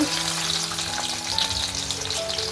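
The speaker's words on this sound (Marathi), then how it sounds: "तर आता फोडणी देण्यासाठी आपण कड्यामध्ये तेल घालून घेतलेलं आहे आणि आता ना मी लसणी घालते" Garlic frying in hot oil in a kadhai for a tempering, a loud continuous close-up sizzle with crackling spatter that holds steady throughout.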